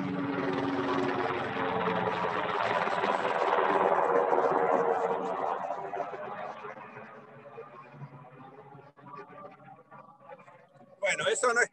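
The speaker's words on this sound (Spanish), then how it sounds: "Tenemos justo un helicóptero aquí arriba nuestro." Helicopter passing overhead near a military base, its rotor and engine drone swelling and then fading away, with people talking underneath.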